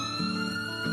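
Wailing siren from a toy ambulance, a steady two-tone cycle repeating about every second, fairly close and alone.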